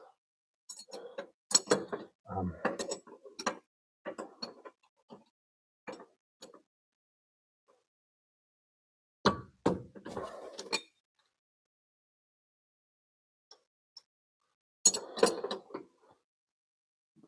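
Mechanical clicks, ratcheting and metallic clinks sound in scattered close bursts as the height mechanism of an MR6 suspension is adjusted, with quiet gaps between them.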